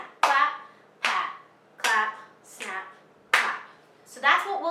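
Body percussion of pats, claps and snaps in an elementary music lesson: six separate sharp hits spaced about a second apart, each carrying a ringing, voice-like tone, with near silence between them.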